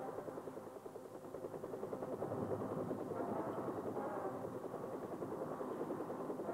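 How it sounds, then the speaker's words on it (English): Huey helicopter gunships fly over in air support of ground troops, a faint, steady rotor throb and engine drone holding level throughout without voices. "Air support of American ground troops and the use of high-speed Huey gunships"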